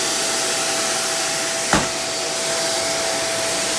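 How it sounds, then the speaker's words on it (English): A Hoover React Professional Pet Plus UH73220 upright vacuum cleaner runs with a steady, close whirring hiss and a faint constant whine, broken by a single sharp click partway through. "turn the vacuum off, then turn it back on"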